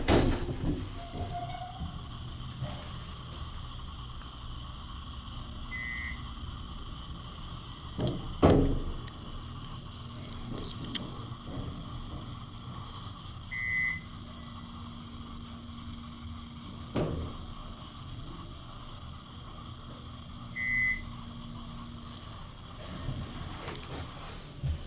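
A Westinghouse hydraulic elevator motor hums low and steadily, broken by occasional clunks and short beeping chimes, in an enclosed elevator.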